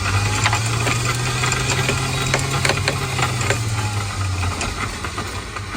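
A Maxwell 1200W boat anchor windlass motor runs continuously just after repair, a loud, close mechanical whir with a steady hum and light knocking, lowering the anchor.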